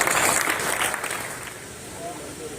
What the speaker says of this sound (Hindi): आप शुभ तालियों के साथ स्वागत करें